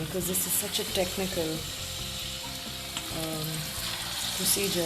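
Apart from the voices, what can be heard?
chicken pieces in rice flour deep frying in oil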